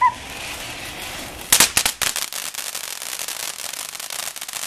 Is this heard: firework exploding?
yes